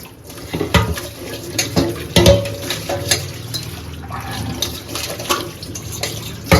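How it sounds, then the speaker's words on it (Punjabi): Lemons are rinsed and rubbed under a running kitchen tap, making a continuous splashing water stream with uneven surges and sloshes as the fruit is handled, close by and without speech. "ਹੁਣ ਆਪਾਂ ਨਿੰਬੂ ਆ ਚੰਗੀ ਤਰ੍ਹਾਂ ਧੋ ਲੈਨੇ ਆ"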